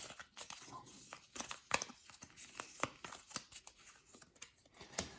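Warhammer Quest: Cursed City initiative cards shuffled by hand on a tabletop, a quick series of close, soft papery riffles and flicks, quiet and irregular.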